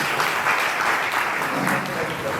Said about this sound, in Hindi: बहुत एक बार जोरदार तालियां